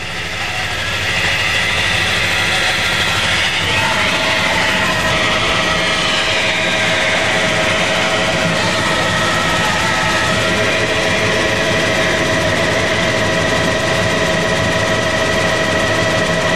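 Loud, continuous roar of a 24-foot Skater offshore racing powerboat's engines with a rapid mechanical rattle during a 1986 race, steady and close, no voices.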